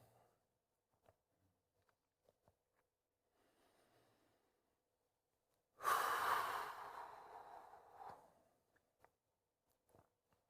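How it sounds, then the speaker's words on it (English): One slow, deep breath during a guided meditation talk, a soft whooshing exhale lasting about two seconds, close and clear, in an otherwise quiet room with a few faint clicks. "And then just do several of those deep breaths."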